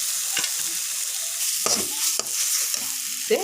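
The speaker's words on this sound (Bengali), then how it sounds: "এখন এটা ভালো করে আমি কষিয়ে নেব" Soybean chunks are stirred into a turmeric and chili powder masala in a hot pan, giving a steady close sizzle broken by several scraping stirs of a spoon, with no talking.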